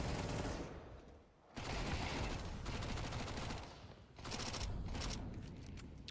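MAC-10 submachine gun fire in a Counter-Strike pro match, rapid dense bursts of automatic shots in two long strings broken by a brief pause, loud and close with no talk over it.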